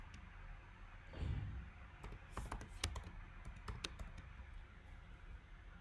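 Typing on a computer keyboard during a DC motor modeling session in Simulink: rapid, irregular key clicks in several bursts over a steady room hiss, close and moderately loud, with no talking.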